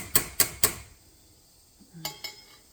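Fresh tortellini dropped into a pot of boiling water with the lid set on: three sharp metallic clanks in quick succession, a short quiet pause, then two lighter clinks of the lid settling, close and with no talk.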